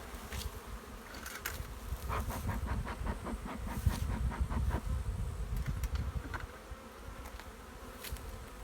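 Bees buzz steadily around a log hive outdoors, a dense droning hum that runs throughout with a few louder passes close by.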